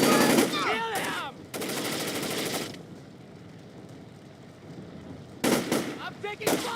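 Machine gun fire in the video game Splinter Cell: Chaos Theory, with loud rapid bursts at the start, middle and end, and shouting voices mixed in between.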